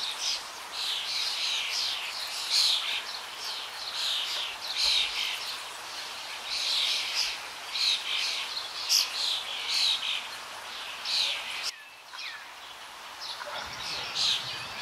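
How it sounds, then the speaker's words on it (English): A large flock of rosy starlings in a fruiting banyan tree on a college campus in Bengaluru: dense, chattering high-pitched calls and chirps repeating throughout at moderate distance. "We have hundreds of Rosy Starlings enjoying the fruits of Banyan Tree"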